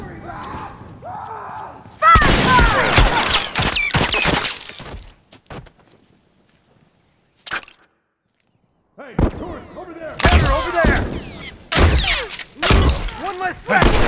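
Gunfire and explosive bursts in The Last of Us during a fight with Fireflies, loud broadband blasts in clustered volleys with a quiet gap midway, a lone sharp report in the lull, then heavy repeated shots resuming.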